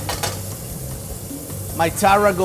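New York strip steak and shallots sizzle in butter with tarragon, a steady close frying hiss with a few soft stirring scrapes, and a person briefly speaks near the end.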